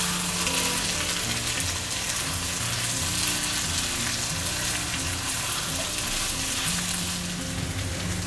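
Tomatoes with salt and spice masala frying in oil in a pan over medium heat, a dense, continuous close sizzle that holds steady throughout with no talking.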